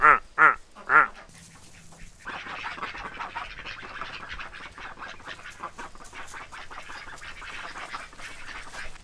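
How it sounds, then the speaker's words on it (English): Three loud duck quacks ring out at the start, then a steady, busier chorus of quacking and honking from several birds continues throughout. "these ducks making all the rah, rah, rah"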